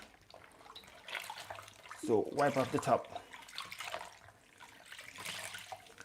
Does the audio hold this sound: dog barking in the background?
no